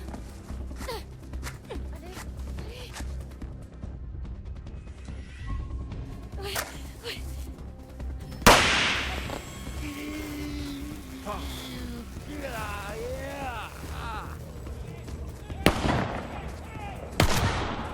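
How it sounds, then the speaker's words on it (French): Fireworks launched at an old man in the video game The Quarry: scattered sharp pops and crackles, a loud burst about halfway through and more near the end, with gasps and distressed voices in between. "elle a lancé un feu d'artifice sur le vieux"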